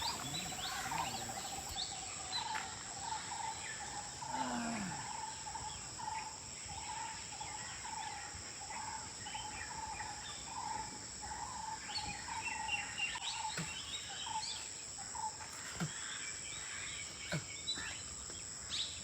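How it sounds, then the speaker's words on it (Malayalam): Morning outdoors beside a forest in a Tamil Nadu areca nut plantation, with a constant high insect trill and several birds calling and chirping intermittently, some near and some farther off. "ഒരുപാട് പലതരം കിളികളുടെ ശബ്ദമൊക്കെ കേട്ടിട്ടാണ് കേട്ടോ നമ്മൾ ഉണർന്ന് തന്നെ"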